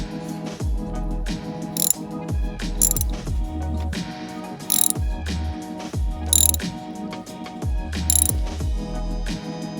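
A ratchet socket wrench tightens a 14mm bolt on a Cummins engine, giving repeated bursts of rapid metallic clicking in a steady back-and-forth rhythm, close and fairly loud with no voices.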